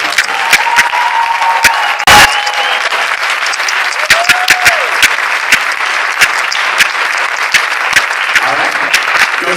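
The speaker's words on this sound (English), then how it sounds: "So give them a round of applause." Audience applause for the orchestra of a Phantom of the Opera production at Indian Hill Theater: steady, moderately loud clapping that continues the whole time, with scattered sharper claps, a brief loud burst, and faint voices or whoops mixed in.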